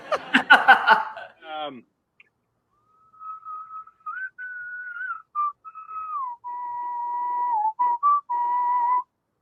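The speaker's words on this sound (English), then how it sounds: "that is some expert whistling" A person whistles a slow, sustained melody of long clear tones, preceded by a brief burst of laughter, in a quiet setting.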